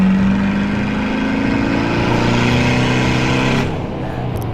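A modified car, fitted with aftermarket parts, accelerates hard through a pull, its engine droning loud and close as pitch climbs steadily through the gears before easing off near the end.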